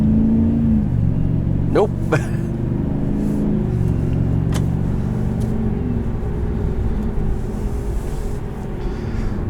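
A 2021 Chevrolet Silverado 1500 LT Trailboss with a Borla exhaust and a 9-speed transmission drives on, its exhaust rumbling low and steady from inside the cab, rising briefly through a gear change, with people talking over it.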